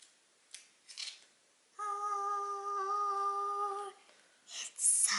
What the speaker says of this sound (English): peel off the wrapping